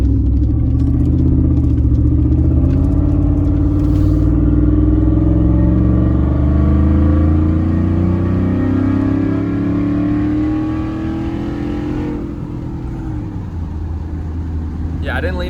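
A loud truck engine rumbles steadily and close for the full length, a deep continuous drone that shifts slightly in pitch and eases off toward the end.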